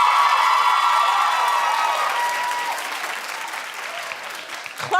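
A television talk-show studio audience claps and cheers loudly for an R&B singer, starting at full strength and then gradually thinning out, with a few whoops in the mix.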